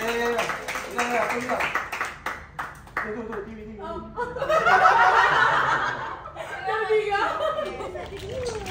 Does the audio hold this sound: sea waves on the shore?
no